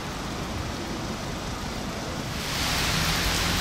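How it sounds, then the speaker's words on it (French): A sudden heavy downpour near the Hotel Plaza, a dense, loud, continuous roar of rain that swells even stronger after a couple of seconds. "il y a un déluge qui est arrivé en même temps que nous"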